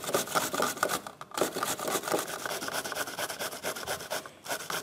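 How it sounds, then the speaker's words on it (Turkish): Cucumber grated with its peel on, a close, rapid rhythmic rasping of strokes against the grater, steady throughout with no talking. "Kabuğuyla birlikte rendeliyorum."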